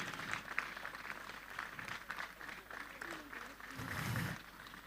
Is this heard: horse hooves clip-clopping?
no